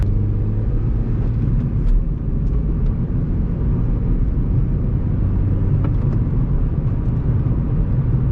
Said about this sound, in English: Let's take you down this rather bumpy back road and see how the suspension does.